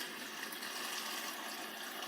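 Purified water poured into a homemade drink, a soft continuous splashing trickle heard close but faintly, with no talking over it.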